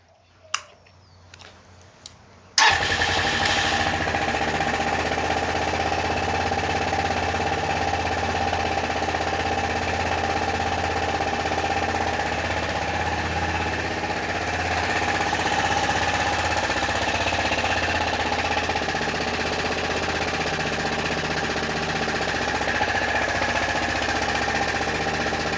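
A Venom x22GT 250cc automatic motorcycle fires up after a few faint clicks and settles into a steady, close idle, a fast ticking buzz that holds without a break for over twenty seconds.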